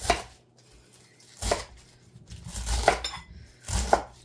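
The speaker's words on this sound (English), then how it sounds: "So I'm just gonna rough chop this, because a knife is easier to wash than all the blades." A kitchen knife rough-chopping cabbage on a board for sauerkraut, four distinct sharp thunks spaced about a second apart, close and clear with quiet gaps between them and no voices.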